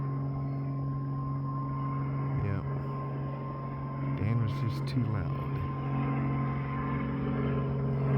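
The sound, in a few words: airplane flying overhead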